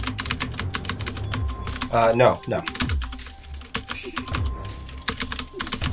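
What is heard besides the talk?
typing on a computer keyboard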